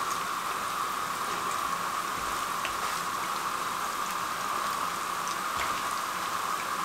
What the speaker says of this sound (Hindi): सात से 8 मिनट इसका फ्राई टाइम रहेगा मीडियम फ्लेम पे